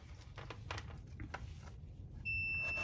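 A continuity tester clipped across the normally closed contact of a DOL motor starter lets out a steady high-pitched electronic beep near the end, after soft handling clicks and rustle.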